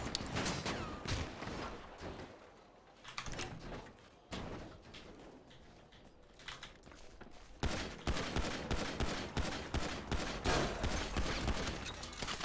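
Gunfire in the video game GTA 5 during online roleplay, rapid repeated shots and bursts crackling loudly throughout, thickening into dense regular volleys in the second half.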